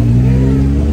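A car engine hums loudly and steadily from inside the cabin during a short ride at a resort in Jamaica, with no talking.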